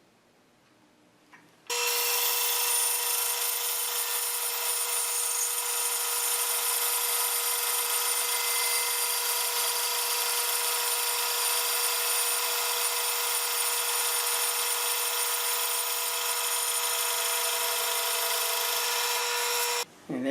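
A saw slices a poplar wood veneer just ten thousandths of an inch thick, a steady, loud, even whine that starts abruptly and holds for nearly twenty seconds before stopping.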